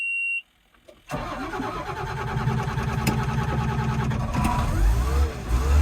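A Case shovel's diesel engine cranks and catches after a brief pause, settling into a loud, steady rumbling idle, heard close from the cab. A short beep tone comes just before the start, and no one speaks.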